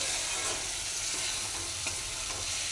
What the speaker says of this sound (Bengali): মশলা দিয়ে দিয়েছি, দিয়ে চিংড়িগুলো করছি